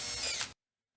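Power drill fitted with a pumpkin gutter attachment whirring as it stirs a 96-ounce batch of Pinot Grigio wine must, a steady high whine for about half a second that then cuts off abruptly.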